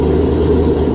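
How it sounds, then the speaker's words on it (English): A boat engine idles with its exhaust running on a garden hose during winterizing, giving a steady, loud, low rumbling drone up close with no voices. "I can just hear the exhaust quiet down"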